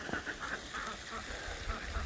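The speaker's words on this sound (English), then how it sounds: "ducks are all hanging out over here." Ducks on a snowy winter farm give a few faint, nasal quacks at a steady pace against a constant outdoor hiss, with no one talking.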